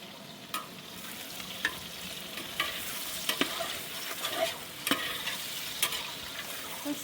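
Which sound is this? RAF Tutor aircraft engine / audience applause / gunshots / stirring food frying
stirring food frying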